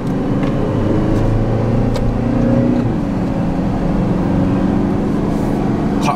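A Toyota Land Cruiser 300 SUV accelerates with a loud, steady engine roar that builds and holds for several seconds, heard up close with no talking.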